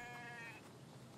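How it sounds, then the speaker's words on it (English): A sheep in the video game The Infected gives one short, faint bleat that fades after about half a second into low background noise. "Damn sheep."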